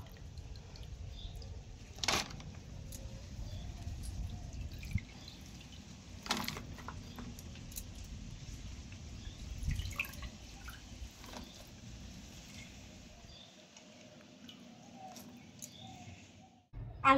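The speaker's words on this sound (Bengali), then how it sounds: "জল থেকে ছেঁকে নেব।" Soaked potatoes are drained from their water for fried potato sticks, leaving quiet scattered drips and a few louder splashy clinks over a low background hush.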